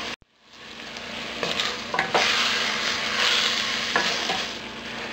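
Canned banana heart sautés in a pan with a steady, loud sizzle, broken by a few scraping stirs of a spoon or spatula across the pan.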